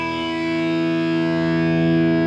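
Electric guitar played through a JHS 3 Series distortion pedal, a sustained saturated chord ringing out alone with thick harmonic distortion, steady and slowly swelling.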